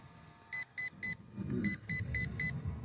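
An RC car's electronic speed controller, in a Losi 1970 Chevelle 1/16 drag car, gives seven short, evenly spaced beeps, a group of three, a pause, then four, sounding close and clear over a low background rumble.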